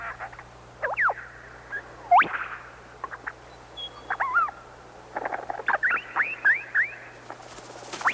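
A lyrebird's varied, rapidly shifting mimicked calls and whistles, with sweeping tones and clicking notes in bursts, close and clear against a quiet background hum.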